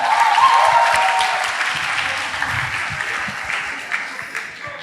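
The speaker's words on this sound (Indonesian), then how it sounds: "Tepuk tangan dong buat Steve" Applause from a club-day audience for a participant, a broad wash of clapping that stays fairly steady and gradually softens, with faint voices mixed in.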